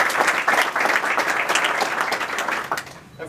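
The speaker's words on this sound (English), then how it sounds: "Let's give David a round of applause." An audience at a student merit awards presentation hosted by a congressman gives a warm round of applause, dense overlapping claps holding steady for about three seconds before tapering off.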